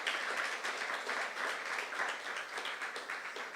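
A church congregation applauding during a sermon, a dense, even wash of many hands clapping at a moderate distance, sustained for a few seconds without speech.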